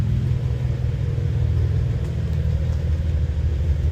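Cadillac ATS-V with a ZZP cold air intake and tune, its exhaust burbling at a steady low rumble, close and loud for a few seconds with no talking.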